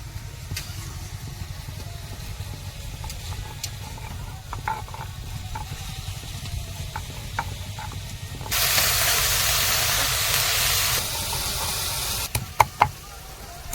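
Leafy greens frying in a pan give a low, continuous sizzle with scattered knocks and stirring clicks, then a louder hissing surge in the middle, ending with a few sharp taps.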